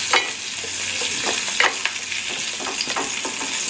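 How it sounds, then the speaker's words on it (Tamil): Salted dried fish (karuvadu) frying in hot oil crackles and sizzles steadily up close, with a few louder pops breaking through the continuous bubbling. "அலசிட்டு அதை பொறிச்சு எடுத்துக்கலாம் இப்போ பொறிஞ்சிருச்சு"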